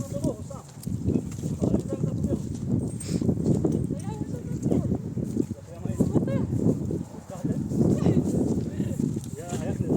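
Horse hooves clip-clop in a steady walking rhythm, close by, with people talking over them throughout.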